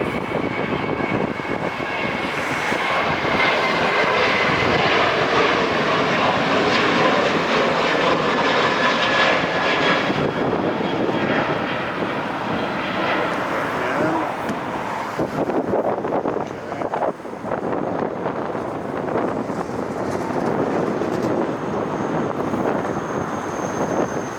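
An Italian airline jet departs LAX, its engines giving a loud, steady roar that holds through the whole stretch, with wind buffeting the microphone and no one talking.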